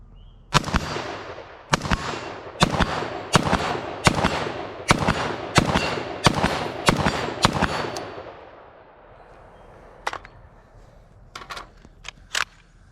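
An IWI Tavor X95 rifle fires ten steel-case rounds in a rapid string of sharp, loud reports spaced about a second apart, followed by a few scattered fainter cracks, likely other shooters on the range.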